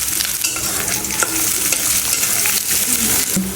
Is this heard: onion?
yes